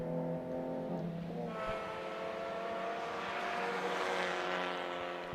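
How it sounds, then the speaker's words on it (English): Racing cars at Brands Hatch Grand Prix circuit in a Trackday Championship race, engines droning and shifting pitch as a pack passes by at moderate distance, steady and continuous throughout. "Number 38 car trying to weave its way through the traffic."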